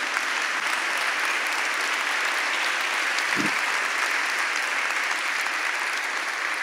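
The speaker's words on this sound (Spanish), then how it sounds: "Dale un fuerte aplauso al Señor." Church congregation applauding loudly and steadily at a Spanish-language sermon, a dense, sustained wash of clapping with no talk over it.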